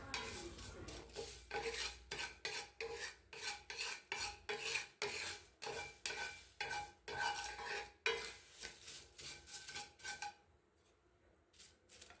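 Curry leaves dry-roasted in a pan for sambar powder, heard as rhythmic scraping and stirring strokes of a utensil against the pan, fairly quiet, continuous before tapering off near the end, with no speech.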